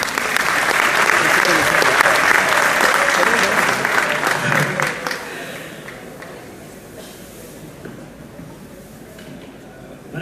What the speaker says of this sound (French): Veuillez applaudir le grand